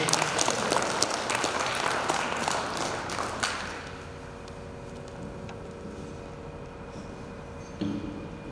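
Audience applause at an inauguration event in Gulaothi: dense clapping for about three and a half seconds, then fading into a quiet room with low murmur and a brief bump near the end.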